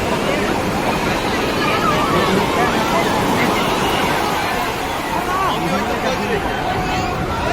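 Sea waves wash onto the beach at Puri in a constant, loud surf roar, mixed with wind and the murmur of a crowd talking nearby.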